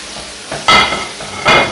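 Salt cod and onion fry in a pan over low heat, a soft steady sizzle broken by two louder bursts of crackle as the pieces are stirred, close and with no voices.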